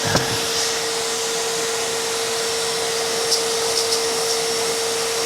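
A vacuum pulls air through a homemade coffee roaster built from a colander on a 5-gallon bucket, producing a constant loud whine and rushing-air roar with a few faint rattles of beans.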